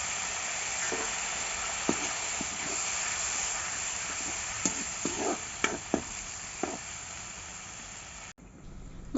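Curry leaf paste sizzles and fries in a hot pan for an Assamese fish curry, a steady close hiss with occasional sharper pops and crackles and no talking.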